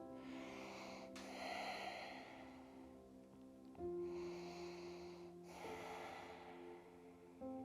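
Slow, deep breaths during a restorative yoga session, long soft inhales and exhales in a quiet room, close and faint, with a low hum beneath.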